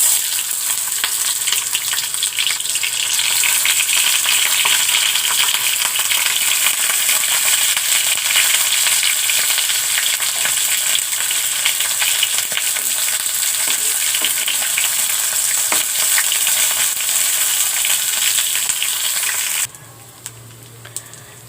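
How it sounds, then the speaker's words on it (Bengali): Taki fish frying in hot oil gives a loud, steady, dense sizzle and crackle that runs unbroken for about twenty seconds, then drops away abruptly near the end, leaving a quieter low hum. "এবার আমি টাকি মাছগুলো তেলে ভাজবো।"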